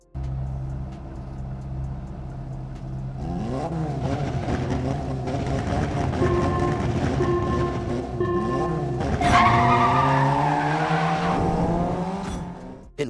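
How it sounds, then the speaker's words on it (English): Cars race and skid in the mobile game Racing Kingdom, with a sustained engine drone, rising revs, and loud tire squeals building toward the end, with no talk over it. "In Racing Kingdom, you race against other cars."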